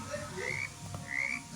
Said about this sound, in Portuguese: Eita, os sapos estão vindo.